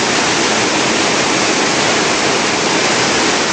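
Loud, steady rushing of whitewater where Indian Springs Creek meets the Pitt River on a rainy day, a dense continuous roar with no voices.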